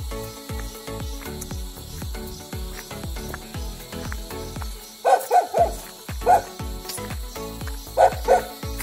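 Mountain dogs barking across a valley in the Uttarakhand hills, a run of sharp barks echoing from a distance, with a louder cluster of barks partway through over steady insect-like background.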